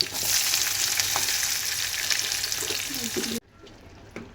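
Chillies and onion frying in oil in a pan for potato palya, a loud continuous hiss and sizzle with light stirring that drops off suddenly near the end, close up.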